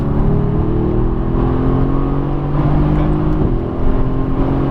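A 2017 Mercedes AMG GTS on a race track pulls hard with a loud, steady engine drone whose tones climb slightly as it accelerates, heard close and alone without voices.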